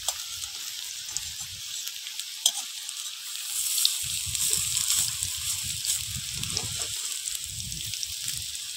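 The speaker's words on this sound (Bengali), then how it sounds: "এবার একটা একটা করে বড়াগুলো ভেজে নেব।" Neem flower fritters fry in hot oil in a wok with a steady close hiss and crackle, the sizzle swelling slightly midway, with occasional light knocks of a utensil.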